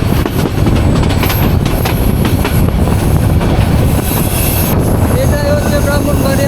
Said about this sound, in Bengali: পর্যটক এক্সপ্রেস ঢাকা থেকে ছেড়ে এসে এখন ব্রাহ্মণবাড়িয়া রেলওয়ে স্টেশনে প্রবেশ করবে।